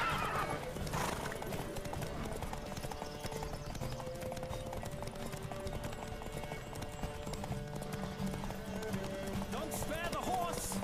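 A horse gallops in the video game The Witcher 3: Wild Hunt during a race, with continuous rapid hoofbeats and neighing, close and loud under speech and game music.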